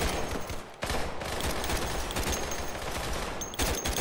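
Sustained rapid automatic gunfire with heavy recoil from a Roblox shooter game, loud and dense, with only brief pauses in the stream of shots.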